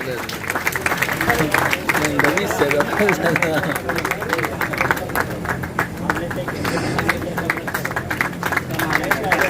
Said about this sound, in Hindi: जोरदार हम ताली बजाकर इस्तकबाल करें